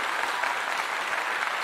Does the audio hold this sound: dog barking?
no